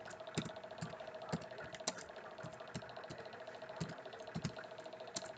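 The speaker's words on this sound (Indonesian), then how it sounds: "Ini tinggal kita ketikkan ketua panitia" Keys on a computer keyboard are pressed at an uneven pace while text is entered in a Microsoft Word 2019 document, with quiet clicks sounding close against a faint background hum.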